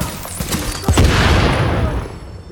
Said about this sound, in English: Let me get him with a sticky bomb.